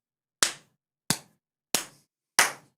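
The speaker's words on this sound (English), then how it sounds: "Loud clapping." Four loud, sharp hand claps spaced evenly about two-thirds of a second apart, each dry and close in otherwise silent surroundings, with a fifth clap just beginning at the end.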